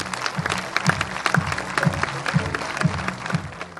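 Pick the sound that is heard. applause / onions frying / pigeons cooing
applause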